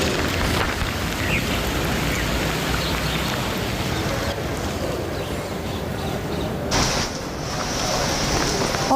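Heavy monsoon rain falls in Delhi as a loud, steady broadband hiss of downpour with a brief shift in texture near the end, no voices heard.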